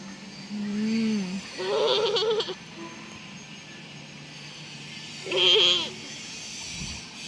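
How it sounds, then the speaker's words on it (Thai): Sheep at a sheep farm bleat in a few wavering calls, fairly close, with someone talking between them and a low background hum. "แกะเต็มเลย"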